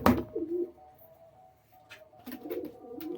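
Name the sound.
Madras pigeons cooing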